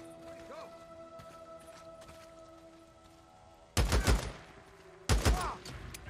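Gunfire in the video game Days Gone, heard as two loud bursts of shots well above the steady hum of the game's music and ambience, the first lasting over a second and the second short and sharp near the end.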